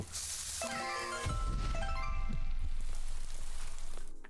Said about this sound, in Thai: ยังมีคนที่ไม่โดนฝนเราอีกเหรอ